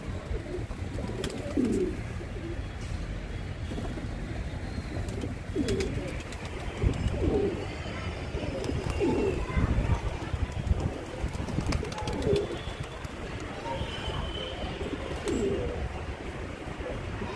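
A pair of all-white pigeons coo repeatedly in soft, low, throaty phrases spaced a second or two apart, close by, over a steady background hum.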